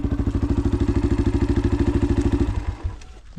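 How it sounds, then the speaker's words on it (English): Motorcycle engine on offroad trails near Mount Longonot, a close, loud, rhythmic thumping idle with regular pulses that cuts off abruptly near the end, leaving quiet. "Turn off the engine, I don't want to scare anyone here."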